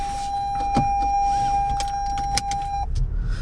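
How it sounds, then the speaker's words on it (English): Inside a 2020 Toyota Corolla, a steady electronic warning tone sounds while a seatbelt is pulled and fastened, with soft rustles and a few sharp clicks before the buckle latches and the tone cuts off. "Let me put on my seatbelt."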